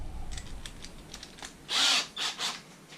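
A power drill whirs in short high-pitched bursts drilling holes in plywood, one longer burst followed by two brief ones, close by against a quiet room.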